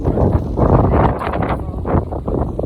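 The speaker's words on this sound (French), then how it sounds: "En espérant que le vent ne soit pas trop dangereux." Strong wind buffets the microphone on a mountain trail of the GR20 in Corsica, a steady loud roaring rush with gusty swells throughout and no voices.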